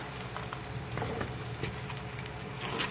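Tomatoes tipped into a hot pan over medium heat, frying for a chicken paillard, give a steady close sizzle and patter with small crackling pops throughout, no voices.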